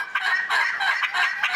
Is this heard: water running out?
no